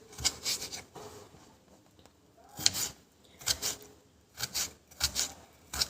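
Knife finely chopping tomato on a board, a few bursts of quick rapid strokes separated by short pauses, close and fairly quiet.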